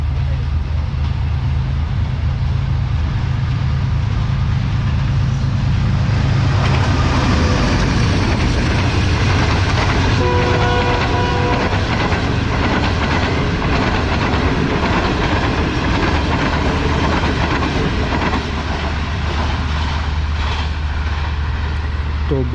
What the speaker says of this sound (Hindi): ग्रीन लाइन एक्सप्रेस जो है वो बॉस की तरह एंट्री मार रही है